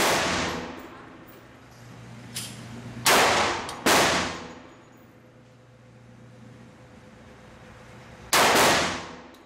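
Several loud, sharp 10mm pistol shots fired through a compensator at an outdoor range, spaced irregularly with a couple close together and one after a long pause, each with a ringing decay.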